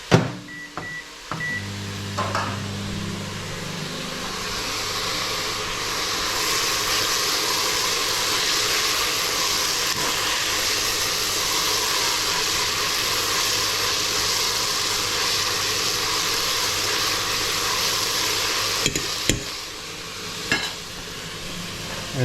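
A home kitchen microwave oven hums steadily and evenly for about twenty seconds, with a few short button beeps at the start and soft clicks near the end.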